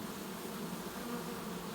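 Honeybees hum in a steady, dense buzz while a nucleus colony is installed into a hive, a close and continuous swarm drone with no break.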